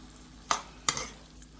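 Potatoes and onions frying in a little oil, a steady soft sizzle broken by two sharp utensil scrapes against the pan, close up and with no voices.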